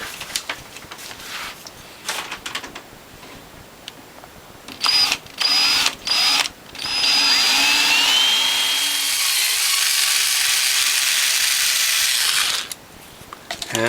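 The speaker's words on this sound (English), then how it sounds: "Drill those out and put the screws in just like we did before." A power drill whirs in short bursts, then runs in a long loud stretch as a screw is driven into the base plate of a Norwalk juicer, winding down before a few final quick pulses.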